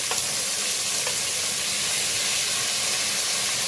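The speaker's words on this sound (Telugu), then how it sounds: "ఇప్పుడు టమాటోస్ వేస్తున్నాను నేను" Chopped tomatoes drop into onions frying in a pan, a steady, close, bright sizzle and hiss running unbroken with a couple of faint early pops, no voices.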